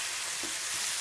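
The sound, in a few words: pomfret fish frying on a nonstick tawa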